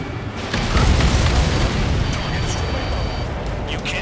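Missile explosions boom in Ace Combat 7 air combat, a heavy, sustained low rumble swelling after half a second and rolling on loudly with scattered bursts, while a radio voice and alert tones sound over it.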